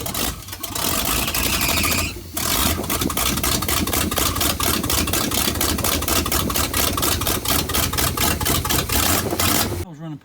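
A freshly installed engine in a Chewy van runs rough, loud and close by, after a brief stumble at the start. It has an uneven, pulsing idle and a carburetor that needs work.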